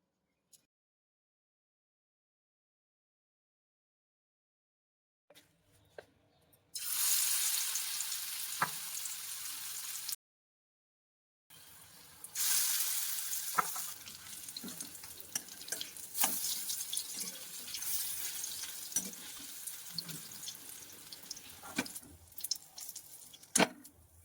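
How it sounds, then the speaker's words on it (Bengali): Batter-dipped boiled mushrooms deep-frying one by one in hot oil over low heat for mushroom pakoras: near silence at first, then a loud, bubbling sizzle that cuts off briefly and resumes with small crackles, no speech. "এবার আগে থেকে বয়েল করে রাখা সেই মাশরুম গুলো ব্যাটারের মধ্যে ডুবিয়ে একটা একটা করে বেশ লালচে করে কম আঁচে রেখে প্রত্যেকটা কড়া ভেজে নেব।"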